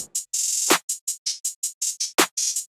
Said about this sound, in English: I have just a simple basic clap pattern with the card snare out of my new kit